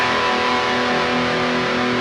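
A5 power chord on heavily distorted electric guitar, as in a rock riff, struck once and held as a loud, dense, buzzing wall of sound with no other voices.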